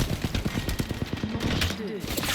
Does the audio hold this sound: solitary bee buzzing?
no